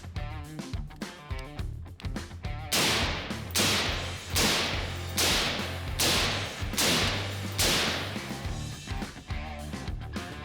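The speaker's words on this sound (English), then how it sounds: "Now we're going to shoot the Ambient Arms EXO 556 Ti and see what that sounds like." Rifle fired through an Ambient Arms EXO 556 Ti titanium suppressor: a string of about eight sharp, cracking shots at a roughly regular pace, each with a short rumbling tail, after an opening stretch of softer clattering sounds.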